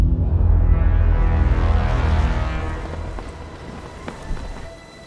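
A heavy wash of rain roars loudly at the Portimão race circuit in Portugal, with a low rumbling undertone that slowly thins and fades toward the end.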